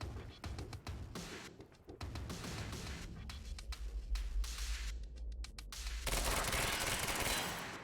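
Gunfire in the 2016 video game Quantum Break rattles in dense automatic bursts and sharp repeated cracks, loud and continuous through most of the stretch, with a heavier rumbling volley near the end.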